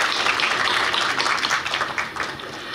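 A crowd applauds steadily at a university graduate school entrance ceremony, dense clapping filling the room before tapering slightly at the end.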